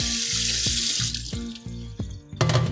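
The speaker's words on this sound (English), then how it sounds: "we're gonna go ahead and put this in the kitchen sink. Rinse it off." A microwave plate is rinsed under a kitchen sink faucet, with steady running water and several clanks as the plate knocks against the sink.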